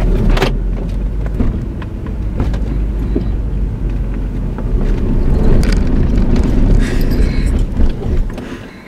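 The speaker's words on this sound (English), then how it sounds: "let's go for a drive" A car with a gasoline engine driving, heard from inside as a steady low rumble with road and wind noise and a few bumps and knocks, fairly loud throughout with no talk.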